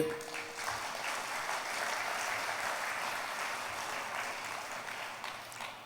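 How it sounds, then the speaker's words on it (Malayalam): A church congregation at a sermon gathering claps steadily for several seconds, a dense, even patter of applause that is fairly faint and distant, with no voices over it. "ഒന്ന് കൈയുയർത്തി കൈയടിച്ചേ."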